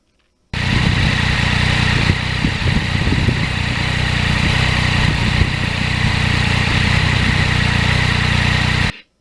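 A 2020 Yamaha MT-09 motorcycle engine drones continuously while riding on a hot day, loud and steady with wind rush, starting abruptly and cutting off near the end.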